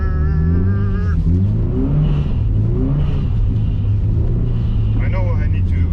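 A Subaru Impreza WRX STI drives on an ice track, its engine giving a steady, loud rumbling drone with slight rises in pitch, heard under the driver talking throughout.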